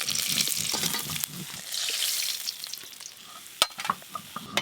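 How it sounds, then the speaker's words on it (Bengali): Koi fish fry lightly in a pan, a strong close sizzle with stirring scrapes, loud at first and then thinning into quieter crackles with a few sharp knocks, no voices. "সব কই মাছ ভাজা হয়ে গেল"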